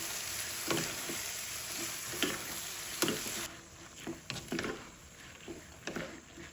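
Bean sprouts (togue) stir-fry in a hot pan with a steady broadband sizzle, punctuated by repeated scraping stirs and spatula knocks that grow sparser and softer toward the end.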